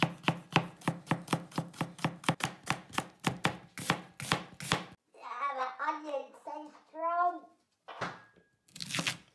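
Knife chopping vegetables and cauliflower for a curry on a board: a fast, steady run of sharp cuts for about five seconds, then a person talks with a few more cuts at the end.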